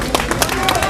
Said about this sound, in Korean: 계속해서 박수 부탁드립니다